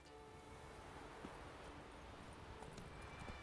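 Roach the horse gallops in The Witcher 3 video game, a steady run of hoof clip-clops held low in the mix under a dense, continuous bed of game ambience and music for a few seconds.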